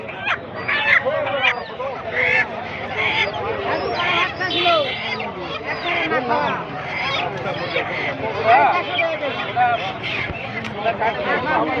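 Chickens cluck and squawk at a poultry market amid a busy crowd of chattering voices, steady market bustle throughout.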